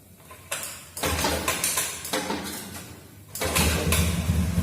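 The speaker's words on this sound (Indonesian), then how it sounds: "kita hidupkan mesinnya" A Honda Beat fuel-injected motorcycle engine cranks and catches, with a broad mechanical whirr that rises in bursts, dips briefly, then settles into a louder, steady running noise close by.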